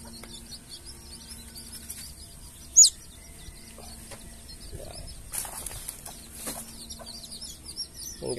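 Young hybrid jungle fowl chicks, a few days old, with one weak chick: scattered high peeping chirps, a louder sharp cheep near the middle, soft and fairly close against a quiet room background.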